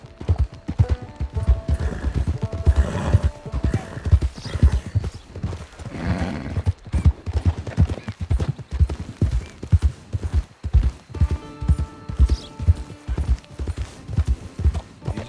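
Horse hooves clip-clop steadily in the Red Dead Online video game, a continuous close rhythm of hoofbeats with an occasional neigh, faint game sounds and brief muffled voices underneath.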